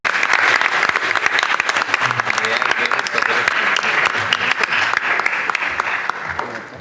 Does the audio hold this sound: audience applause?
yes